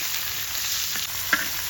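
Chopped onion, bay leaf and cumin seeds sizzle in oil left over from frying rohu fish, a dense close crackle with a single small clink partway through.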